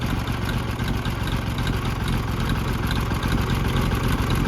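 An Oliver 70 tractor engine in need of a rebuild idles steadily, a loud, close, continuous low chug with a dense rumbling texture and no talking over it.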